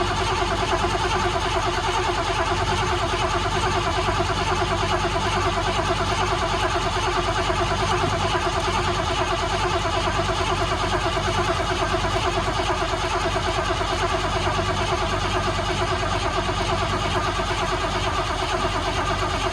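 A 1988 Ford Lincoln Town Car engine cranks and runs, a steady, loud mid-pitched mechanical drone that holds constant with no clear revving or pauses.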